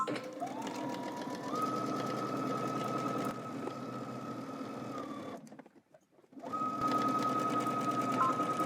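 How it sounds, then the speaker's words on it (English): A sewing machine stitches a facing onto a coat at a 5/8-inch seam allowance, running steadily and close with a rising motor whine, pausing briefly, then starting again. "we're going to go ahead and stitch our facing to our coat"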